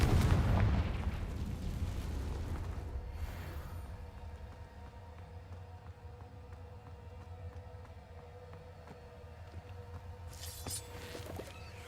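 A Confringo blasting spell goes off in a Harry Potter video game, a loud booming explosion that rumbles and slowly decays over several seconds, with a brief crackling burst near the end.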